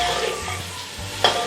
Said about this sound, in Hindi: अब इसमें मैं अदरक लहसुन का पेस्ट डालूँगी और इसे बहुत अच्छी तरीके से फ्राई करूँगी